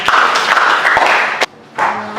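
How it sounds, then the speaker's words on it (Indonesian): Students in an Arabic language class clapping together, a loud patter of hand claps with a few sharp distinct claps, a brief lull, then a fresh burst of clapping. "Oke, tepuk tangan untuk kita semuanya."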